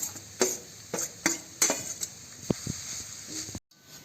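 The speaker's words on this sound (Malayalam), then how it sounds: "അപ്പം അതിലേക്ക് ഈ തേങ്ങ ഇട്ടിട്ട് നല്ല ബ്രൗൺ നിറമാകുമ്പോൾ, കരിഞ്ഞു പോകരുത്, ബ്രൗൺ നിറമാകുന്നിടം വരെ നമുക്ക് നന്നായിട്ട് വറുത്തെടുക്കാം" Grated coconut being roasted in a pan for an Onam koottukari, heard as a series of sharp utensil scrapes and clinks against the pan at uneven intervals over a low background, with no talking.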